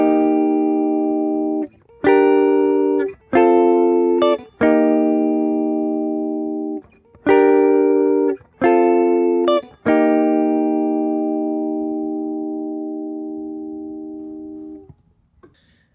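Clean guitar plays a song's riff, with sharp strummed chord hits in a syncopated pattern, short ringing stops between them and a final chord left to sustain and fade.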